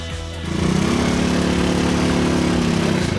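A tractor engine starts up after a brief moment and then runs in a loud, steady, close drone with a regular chugging pulse, with no voices over it.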